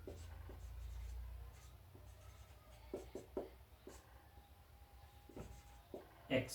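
Marker or chalk strokes on a board during a coordinate geometry lesson: faint, scattered scratches and taps in short irregular bursts over a quiet room hum, with no talking.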